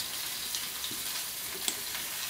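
Mackerel (bangda) frying in a pan as the pieces are flipped, a constant soft sizzle of oil with a few light scrapes and taps of the spatula.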